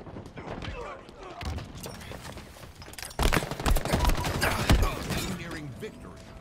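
Gunfire in Halo Infinite ranked multiplayer on the Launch Site map: sharp bursts of rapid automatic shots and booming impacts, sparse at first then a dense, loud volley from the middle onward, with voices heard underneath.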